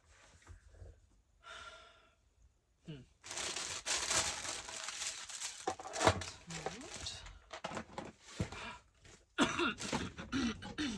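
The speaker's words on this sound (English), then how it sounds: "Excuse the coughing." Several harsh coughs and throat-clearing bursts, close to the microphone, with rustling and heavy breathing in between.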